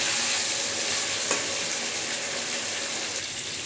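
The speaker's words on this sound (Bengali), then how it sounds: "এবারে দিব কেটে রাখা টমেটো, তো নেড়ে চেড়ে আরেকটু কষিয়ে নেব" Chopped tomatoes fry in spice masala in a pan, making a continuous, even sizzle and hiss with faint stirring and no voices present.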